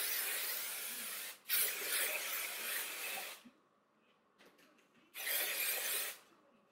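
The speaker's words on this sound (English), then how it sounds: "Also, I used my Kenra Volumizing Spray." Two bursts of volumizing hair spray from an aerosol can, a long hiss followed by a pause with faint handling sounds, then a second shorter spray.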